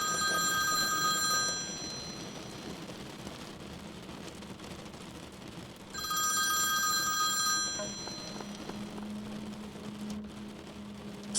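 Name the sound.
old-fashioned rotary telephone ringing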